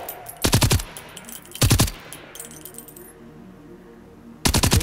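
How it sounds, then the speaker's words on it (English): Bursts of rapid automatic gunfire aimed at robots in the video game Generation Zero, three loud, close rattling volleys separated by quieter gaps with faint clinking and ambient noise. "should we start shooting at them and get them up here?"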